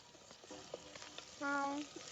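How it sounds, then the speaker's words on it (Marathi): Tomatoes tipped into onions already frying in a pan for a wet cashew bhaji cooked outdoors, giving a steady soft sizzle with a brief louder hiss and some stirring clatter. "आता हे टमाटर टाकून घेणार आहे त्यात"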